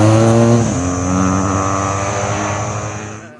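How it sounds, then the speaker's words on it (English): Liquid-cooled engine of a 2013 BMW R1200GS motorcycle: a strong revving note that drops sharply, then a steady idle hum that slowly fades, close and loud with no voices. "Key component to the new GS is this liquid-cooled motor"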